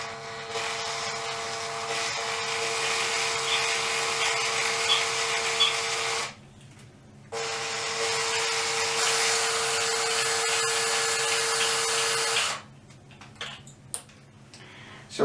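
A small electric motor drives a 3D printed gear pump at low speed with a steady whirring buzz, running for about six seconds, stopping briefly, then running again before cutting off and leaving a few faint clicks.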